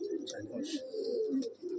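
Pigeons in a breeding loft coo in soft, low bursts through the clip, with a few brighter chirps and calls over a steady murmur of birds close by.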